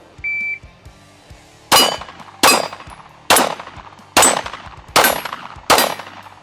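Six pistol shots fired with iron sights and a light, sharp loud cracks at a fast even pace, each trailing a short ringing decay, preceded by a brief electronic timer beep.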